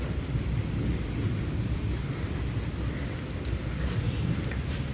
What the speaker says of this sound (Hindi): तेज़ तेज़ बारिश